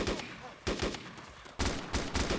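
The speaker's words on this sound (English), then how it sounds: "Contacts, 90 meters. Shots fired," Gunfire rings out during a beach assault in a video game, with several sharp, loud bursts of shots separated by short gaps as voices call out over the shooting.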